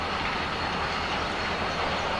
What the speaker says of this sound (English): get up north in front of this train